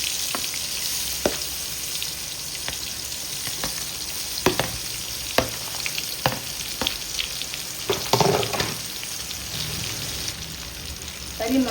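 Mango pieces sizzle in hot oil with mustard seeds and urad dal while a mango pickle is being made, a steady hiss laced with sharp crackles and seed pops. Scattered clicks and stirring sounds break through.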